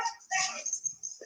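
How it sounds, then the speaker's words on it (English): Dogs give a brief, faint burst of whimpering and yipping that lasts barely more than a second, heard indoors at a low level. "dogs going crazy. Dogs be dogs."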